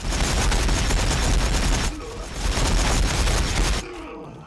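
Ork Warbikers in Warhammer 40,000: Battlesector loose a sustained, loud barrage of gunfire, dense overlapping shots roaring for several seconds before dropping off abruptly near the end.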